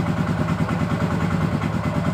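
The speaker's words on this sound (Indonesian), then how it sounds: "Terus motor kita hidupkan bro." A Yamaha Mio 125 fi motorcycle engine idles close by with a fast, steady pulsing putter and no talking.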